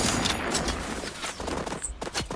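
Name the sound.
gunfire in the video game The Outer Worlds 2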